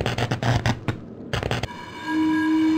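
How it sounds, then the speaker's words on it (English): Train sound from the adventure game RealMyst: several rapid clattering bursts, a short pause, then more clatter, giving way to a sustained whistle-like tone and a steady rolling hum. "That is a train."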